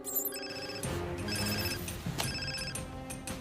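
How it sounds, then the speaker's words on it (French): A telephone ringtone played by a keychain sound toy chimes in electronic bursts, repeating bright tonal rings with short breaks between them, clear and close. "Une sonnerie de téléphone, un vieux klaxon"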